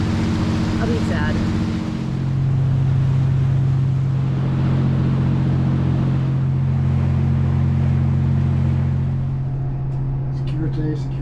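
Steady low engine drone of a Nordhavn 55 motorboat underway in a winter passage, a constant close hum with water wash that holds level throughout and carries no talk.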